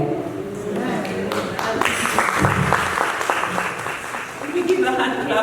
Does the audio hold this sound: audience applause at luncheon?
yes